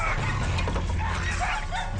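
Dogs bark and yip continuously at close range, layered with whimpering over a steady low rumble.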